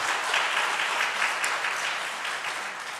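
Church members at a Korean Sunday worship service give a warm round of applause, a dense, even wash of clapping from a full congregation that holds steady and fades slightly at the end.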